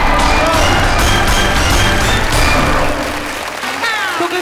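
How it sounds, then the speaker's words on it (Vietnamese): Loud audience applause from a studio crowd at a comedy competition finale, dense clapping under a comedian's stage performance that softens slightly in the last second, with voices and music present. "Vỗ tay."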